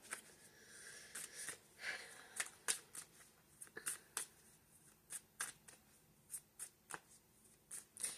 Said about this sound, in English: let me get the rest of the cards out here.